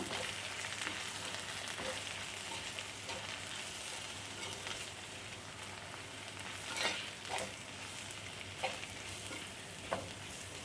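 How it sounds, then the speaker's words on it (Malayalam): Clam meat with meat masala sautéing in a pan on medium flame, a steady close hiss of frying broken by occasional spoon scrapes and clinks against the metal. "ഇനി നമുക്ക് ഈ മസാലകളെല്ലാം നന്നായിട്ടൊന്ന് വഴറ്റിയെടുക്കാം."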